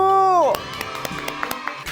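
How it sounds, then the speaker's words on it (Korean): A sustained shout gives way to a burst of clapping and cheering from a small group, scattered claps continuing close by. "박수!"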